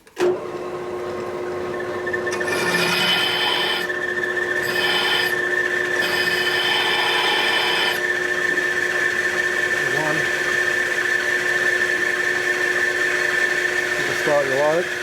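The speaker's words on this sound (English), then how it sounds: "Alright, so now we can go ahead and drill some holes." A drill press bores holes in a part for a 1972 Harley-Davidson XL Ironhead Sportster bobber, giving a steady motor whine with a rising grinding cut partway through, close and loud, with someone talking over it.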